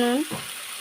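A short burst of steady sizzle from vegetables frying for a labra curry, close by, with a brief scrape of stirring in the pan.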